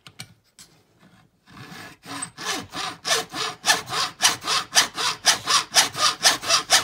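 Hand saw cutting through wood for an auger build, a few tentative strokes giving way to a steady, loud back-and-forth rhythm of rasping strokes, close up and alone.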